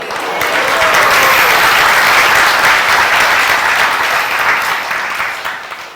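Audience applause in a devotional class hall, a dense steady wash of clapping that swells quickly and holds for several seconds before tapering off near the end, with no talk over it.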